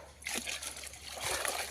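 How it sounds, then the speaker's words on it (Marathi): Hot water poured into a pot of shepi amti curry cooking on a wood-fired stove, giving two close, splashy trickling bursts with a short pause between them. "तर आता मी गरम पाणी ओतून घेते भाजीमध्ये."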